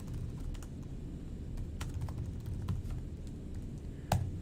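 Someone types code on a computer keyboard, producing scattered, uneven key clicks close to the microphone, with a louder tap near the end, against a steady low hum and no talking.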